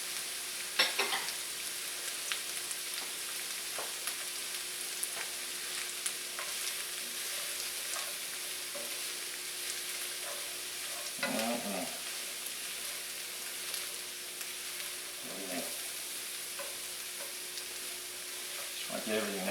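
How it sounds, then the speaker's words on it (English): Diced carrots and celery sauté in grease for chowder, a steady bright sizzle punctuated by occasional stirring scrapes and clatters of a utensil in the pan. "I just like to do this step of getting it all kind of sauteed."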